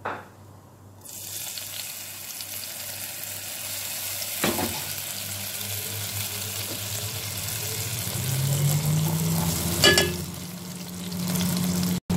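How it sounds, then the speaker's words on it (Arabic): Onions sizzle steadily in hot oil for sizzling shrimp, a broad continuous frying hiss with occasional stirring clatter and a couple of brief louder knocks, close and alone with no talking. "الحين راح احط شوي من الزيت من الصوص في الزيت ونقلي البصل"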